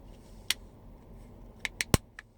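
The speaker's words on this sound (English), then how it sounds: "close it up just the way you opened it. Should just click in." A Ford Explorer key fob cover snaps shut, a few sharp plastic clicks close to the microphone, the loudest near the end, with no talking.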